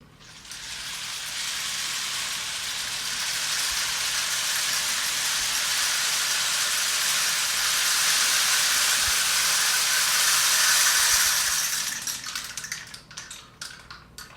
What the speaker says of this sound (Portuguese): O nome dele é pau de chuva.